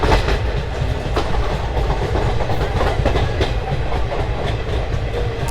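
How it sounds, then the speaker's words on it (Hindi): Sleeper-class passenger train pulling into Rajendra Prasad Terminal in Bihar, a steady rumble of wheels with clickety-clack over rail joints and occasional squeaks, heard from on board at moderate loudness. "ट्रेन थोड़ी देर में यहाँ रुकेगी और रुक के फिर आगे बढ़ जाएगी"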